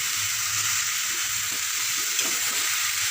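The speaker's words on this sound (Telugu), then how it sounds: "ఇట్లా మొత్తం మనం పైనుంచి కింద వరకు కలుపుకుంటే అడుగునంతా మాడిపోకుండా ఉంటుంది అన్నమాట" Cluster bean stir-fry with grated coconut being stirred in a pan, a continuous close sizzle with soft scraping stirs throughout and no talk.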